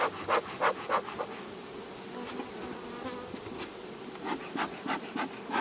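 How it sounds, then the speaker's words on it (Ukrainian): Dense, steady buzzing of many Carniolan and Buckfast honey bees at an open hive up close, with occasional louder puffs from a bee smoker and rustles breaking through the hum. "бджола непогано уходить від диму"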